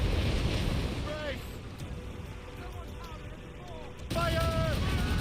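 A ship's cannon broadside in Assassin's Creed Rogue booms out with heavy blasts at the start and again near the end, over constant rushing sea and wind noise, with voices shouting in between.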